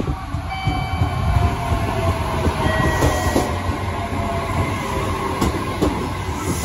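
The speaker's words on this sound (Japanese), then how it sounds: "乗っていく電車なんですけども、115系の3000番台です。" A Japanese 115 series 3000-subseries electric train rumbles along with rhythmic clatter of wheels on rails and a faint motor whine, steady and close throughout.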